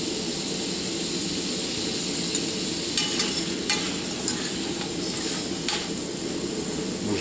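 Langoustines fry in olive oil in a pan with a steady, loud sizzle throughout, broken by a few light clicks and taps of a utensil against the pan.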